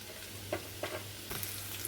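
Shredded cabbage and capsicum are stir-fried in a pan with a steady background sizzle, broken by a few soft scraping stirs of the spatula at close range.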